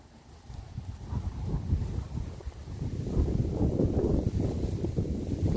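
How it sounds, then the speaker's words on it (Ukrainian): Gusty wind outdoors in an autumn garden buffets the microphone with low rumbling noise that grows stronger and more turbulent partway through, no voices. "Вітер нас піднявся"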